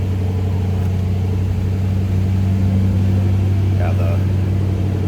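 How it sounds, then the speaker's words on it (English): A 1941 Plymouth 5-window coupe idles with a rumbling cam, a steady close low engine drone running underneath someone talking throughout. "It does have a nice little cam to it when it comes off that high idle. A little bit of a rumble to it."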